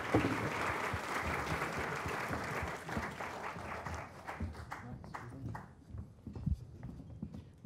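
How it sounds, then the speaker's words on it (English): A lecture-hall audience at a popular maths lecture breaks into dense, sustained applause that thins out into scattered claps and fades after a few seconds. "you can all go wild with applause"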